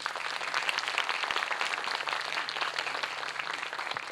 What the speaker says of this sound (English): Let's give them all a big round of applause to our judges and their long and hard work.